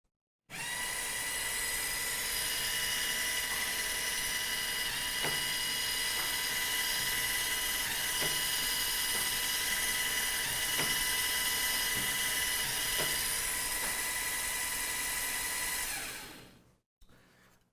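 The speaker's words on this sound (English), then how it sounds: "Just because we're dealing with shooters and spinning flywheel, it's always important to be safe." FTC robot shooter flywheel spun by an UltraPlanetary motor, a steady high-pitched whine running for about sixteen seconds with a few faint knocks before it cuts off.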